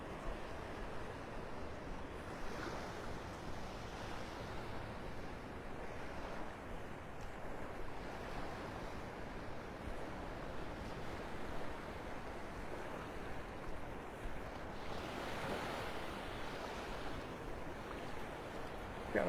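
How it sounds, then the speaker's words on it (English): Waves rolling over a sandbar at Delnor-Wiggins beach in North Naples, Florida, a steady faint wash of surf with gentle swells and some wind noise, no voices. "Some of those waves rolling over the sandbar out there."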